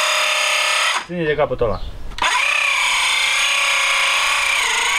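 A circular saw whines steadily at close range while cutting wood for a homemade ladder. It drops out briefly as a person speaks, then resumes at full loudness.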